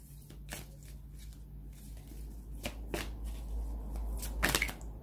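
Tarot cards handled and laid down on a table during a full moon reading: several brief, soft swishes and taps spaced a second or so apart, faint and close, over a low steady hum.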